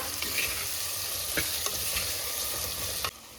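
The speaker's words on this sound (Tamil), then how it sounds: "இப்போ காய் தக்காளி எல்லாம் நல்லா வதங்கட்டும்" Vegetables and tomatoes sauté in a pan for a Tamil raw-mango kuzhambu, giving a steady close sizzle with a few scraping stir strokes, cutting off abruptly near the end; no talking.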